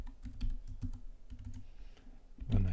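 Keystrokes on a computer keyboard as an IP address is entered, a quick, uneven series of soft, close taps at low level, ending in a slightly louder clatter.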